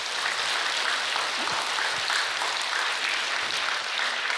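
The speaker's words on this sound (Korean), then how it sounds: "큰 박수 한번 치겠습니다." An assembled congregation at a Buddhist precepts ceremony at a temple hall gives a sustained round of applause, a dense, even roar of clapping filling the room without speech.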